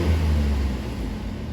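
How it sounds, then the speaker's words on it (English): Mercedes-Benz C43 AMG engine on a stock exhaust gives a short, deep rev that swells and eases off, close and fairly loud with no voices. "So let me give you a couple revs so you can see how it sounds."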